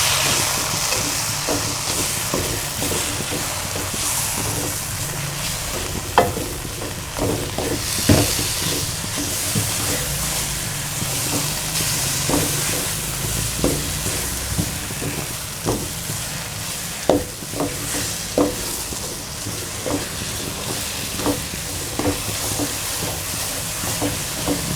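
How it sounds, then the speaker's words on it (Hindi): Aloe vera and khoya halwa being roasted in a pan, a long steady sizzle with hiss and repeated light scrapes and taps of a spatula, close by without speech. "इसको भी साथ भूनेंगे।"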